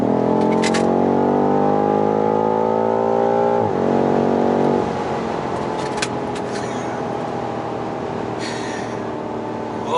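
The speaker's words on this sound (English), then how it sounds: "We're driving 150 kilometers per hour, just like that. What a machine!" A 2019 BMW M5 with 600 horsepower accelerates hard at around 150 km/h, its engine note climbing in a loud, steady drone before a gear change drops the pitch, then settling into a rushing cabin roar.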